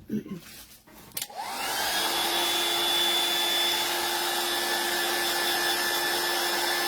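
A dryer blows to dry painted artist tags, starting with a click and rising whir after a few faint handling sounds, then settling into a loud, steady whoosh with a sustained tonal whine.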